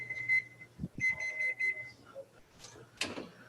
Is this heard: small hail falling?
no